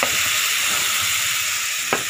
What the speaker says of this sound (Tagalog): magigisa na ako ng sibuyas, bawang, para magluluto na ako ng ampalaya